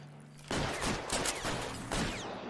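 A burst of gunfire from the L.A. Noire video game starts suddenly: several loud, rapid shots crack in close succession, followed by a second cluster of shots, all fairly near and without talk.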